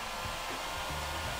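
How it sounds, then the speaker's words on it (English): A heat gun blows a steady, loud whooshing stream of hot air to dry paint on a DIY Reptile Mortal Kombat 1 mask, droning on without a break. "We're going to take a heat gun like this"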